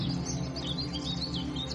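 Birds chirp and call through a lush green forest where koels sing on all sides, with bright twittering phrases over a low steady hum and no talking.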